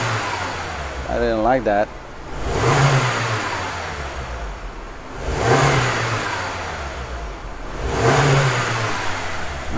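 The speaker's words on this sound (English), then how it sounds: "I'm going to do a snap throttle." A 2014 Mini Cooper S engine revs up hard three times in snap-throttle blips, each rise and fall spaced a few seconds apart, with a brief spoken remark just before the first rev.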